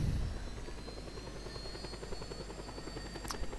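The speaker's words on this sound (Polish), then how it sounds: "Dobra, tym razem mamy żółty helikopterek." A yellow helicopter in a video game flies close by, its steady rotor whir and engine drone continuous and fairly loud throughout, with no talking.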